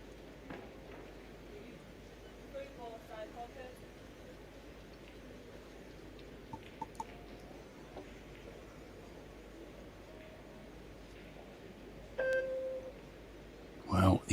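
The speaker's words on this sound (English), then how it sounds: "He's heard the 10-second beep." A single electronic shot clock beep sounds near the end of a pool match at a men's 10-ball world championship, short and tonal over a quiet hall murmur, with a sharper knock right after.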